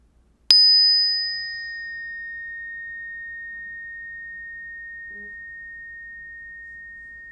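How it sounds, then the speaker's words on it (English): A single bell is struck once, giving a sharp clear ring that settles into a long, pure tone and fades slowly over several seconds in a quiet room. "listen to the sound of the bell I'm going to ring"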